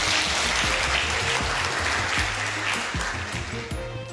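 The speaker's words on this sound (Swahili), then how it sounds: "Tupige makofi" An audience applauding during a talk-show segment, a sustained dense clatter of hands with some low knocks and thumps, moderately loud and steady throughout.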